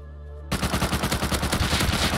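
Rapid automatic gunfire in the survival game Rust erupts suddenly after a quiet hum, a fast even burst of loud close shots continuing to the end.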